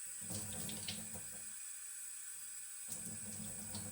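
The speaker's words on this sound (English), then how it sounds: "I take the palette to the sink and start cleaning the membrane by gently rubbing off the paint with my fingers under running water." Tap water runs into a sink while a wet palette membrane is rinsed and rubbed clean by hand; a quiet, steady hiss of flowing water with a brief break midway.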